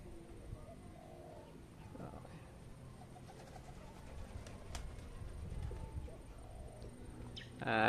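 Racing pigeons coo softly in a loft, their low, rolling calls rising from a background of shuffling and ambient noise.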